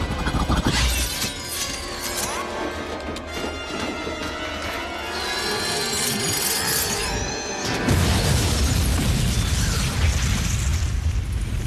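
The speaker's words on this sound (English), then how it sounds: "It's a bomb." A bomb explosion in The Matrix film builds as a sustained, loud roaring blast blended with dramatic score, then surges into a heavier, deeper rumble partway through and stays dense to the end.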